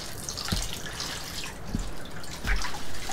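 Water drips and splashes as a hide is lifted out of a saltwater bath where it soaked for about 24 hours, a few distinct drops and trickles close by with no voices.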